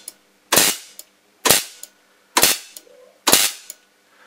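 A 30 kV high-voltage lamp module arcs in four sharp, loud electrical cracks, evenly spaced about a second apart, each a brief bright burst that quickly fades to a faint hum.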